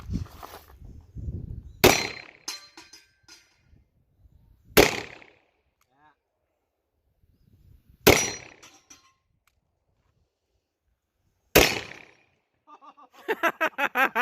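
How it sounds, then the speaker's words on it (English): A Taurus Judge Public Defender polymer revolver fires .410 shells: four sharp, loud shots spaced a few seconds apart, with a voice talking briefly at the start and the end. "so I can't wait to shoot the 410 out of it"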